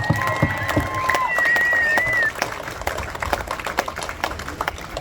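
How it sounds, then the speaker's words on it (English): A crowd claps and cheers loudly, with whistles and shouts rising over the applause before it settles into scattered clapping. "Another round of applause for Dan, please."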